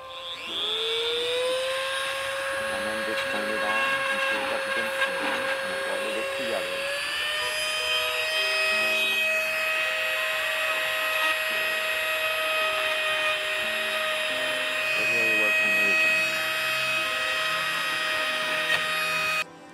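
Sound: Dremel spinning filament to friction weld 3D printed parts

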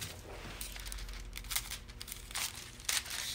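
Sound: cutting a thin strip of foil

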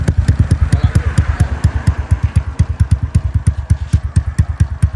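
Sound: motorcycle exhaust idling

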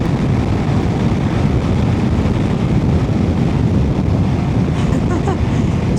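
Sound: wind

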